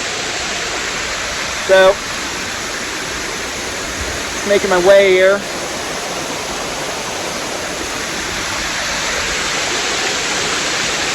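Steady broadband rush of Anderson Falls, a waterfall where visitors go for a dip in cool water, continuing throughout with someone briefly speaking twice over the constant roar.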